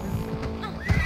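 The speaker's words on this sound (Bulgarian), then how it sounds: "Ще извикаме нашия любим кон." A horse in Assassin's Creed Odyssey gives a short, close neigh with a whinnying rise at the end, over a faint low in-game hum.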